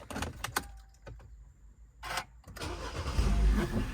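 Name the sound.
2012 Mini Cooper Countryman engine starting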